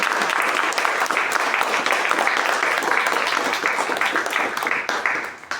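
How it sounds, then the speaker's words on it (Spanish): At an anniversary event in Asunción, Paraguay, an audience applauds in a dense, sustained wash of many hands, loud and even throughout before tapering slightly at the end. "quiero que le den un aplauso también a esta persona"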